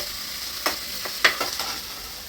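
Ginger and garlic fry in a pan with a steady sizzle, broken by a few soft stirring scrapes.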